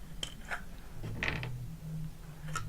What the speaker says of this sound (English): we take one of the fittings and remove the screws